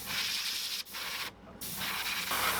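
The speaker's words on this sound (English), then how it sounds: "going over the whole thing with a wider spray pattern" Dark blue paint is sprayed over an airplane fishing lure with a wide spray pattern, giving a steady close hiss in bursts with brief pauses between passes.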